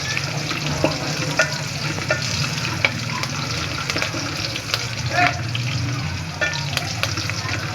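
Garlic and green chillies frying in oil in a pan, a loud steady sizzle broken by repeated scraping and clinking of a spoon stirring, close up throughout.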